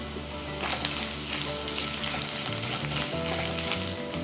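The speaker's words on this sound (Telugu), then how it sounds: "ఈ ఉల్లిపాయ ట్రాన్స్పరెంట్ అయ్యే వరకు వేయించుకోవాలి" Onions sizzle steadily in hot oil with ginger garlic paste for a stuffed brinjal curry, a loud continuous crackle with faint stirring and no talk.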